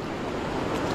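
Loud, continuous roar of forceful rushing water at a dam, broadband and steady with no pauses, close to the microphone with some wind buffeting.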